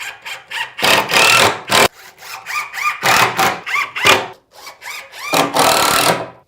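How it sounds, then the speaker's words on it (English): A power drill drives screws into wooden boards while a homemade headboard is built, in several loud bursts with whining rises and pauses between them, close up and alone. "Drill in."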